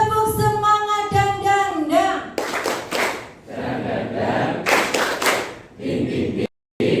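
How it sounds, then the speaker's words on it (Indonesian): A classroom group does tepuk semangat, a rhythmic Indonesian spirit clap, at a school programming-class event. Voices chant first, then loud bursts of clapping and shouting come in quick patterned groups, ending abruptly. "Tepuk semangat dan."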